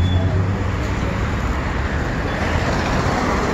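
Dense street traffic in Bishkek, a steady broadband roar of passing cars and buses heard from the roadside, constant and fairly loud with no breaks.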